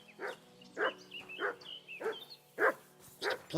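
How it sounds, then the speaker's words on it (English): A dog in the video game Kingdom Come Deliverance 2 barks steadily outside what may be a bandit camp, about six evenly spaced barks at moderate distance, with no talk over them. "Bloody dog barking at Jesus."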